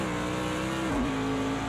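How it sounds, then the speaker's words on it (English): A Mercedes-AMG GT3 race car in Project CARS 2 holds a steady, loud engine drone at the Nurburgring. The pitch dips briefly midway and then settles. "it's the AMG GT3 that I'm driving, not the SLS"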